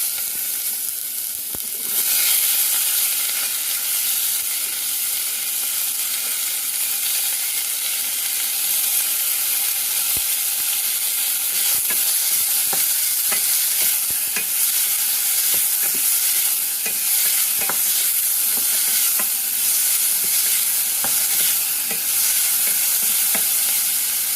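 Green chillies and onion hitting a hot tempering for cauliflower sabji, giving a loud, continuous close-up sizzle and hiss that holds steady throughout, with faint stirring clicks scattered through it.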